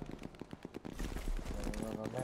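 Springfield rifle gunfire in Sniper Elite 4, a run of sharp cracks during the first second, then a denser stretch of game sound with voices talking over it.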